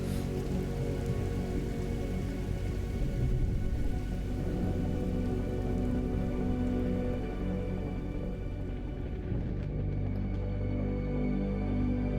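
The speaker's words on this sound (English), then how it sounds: "it always finds a way to rain when the building plan comes in" Steady rain falls in a survival video game, a dense even patter on surfaces that holds at a constant moderate level alongside a low hum, without any talk.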